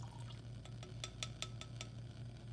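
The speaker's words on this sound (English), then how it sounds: "pour it into our beaker" Eighty milliliters of water poured into a lab beaker gives a faint trickle with a string of small bright splashes and glassy plinks over a low steady hum.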